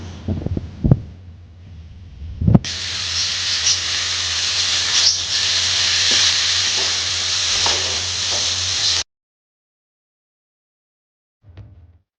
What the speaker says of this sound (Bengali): আমি এখন নুডলসগুলো ঢেলে দেবো